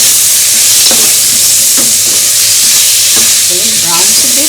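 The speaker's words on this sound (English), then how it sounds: "the cumin as well as the cashew nut. I'm going to saute this up" Cumin seeds and cashew nuts sauté in a pan with a steady, close sizzle, while a utensil scrapes and stirs at irregular intervals throughout.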